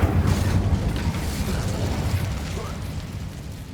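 An Incendio fire spell cast in Hogwarts Legacy: a loud, broad burst of roaring flame with a deep rumbling low end, slowly fading as it burns on for several seconds.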